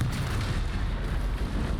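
Video game explosions during the Fortnite Season 7 Sky Fire event, a continuous loud rumbling roar of blasts filling the whole stretch without pause.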